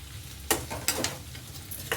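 Capsicum frying in a pan for capsicum vangi bath, a steady soft sizzle with a few sharp scraping stirs at intervals, close and moderately quiet, no talking.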